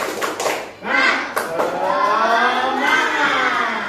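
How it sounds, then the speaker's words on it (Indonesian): A group of schoolchildren in a classroom doing a rhythmic cheer clap, with a few sharp claps and then a swell of excited shouting voices. "Tepuk semangat."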